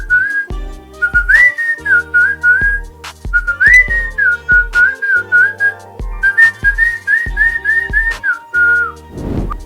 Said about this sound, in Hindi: मैं हंसकर सीटी बजाता हूँ